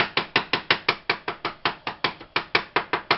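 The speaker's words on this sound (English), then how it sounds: "So I got some garlic cloves. I want to put about 4 of these in, mince them up." A knife mincing garlic cloves on a cutting board gives quick, evenly spaced sharp chops, about five per second, close and crisp, with no speech.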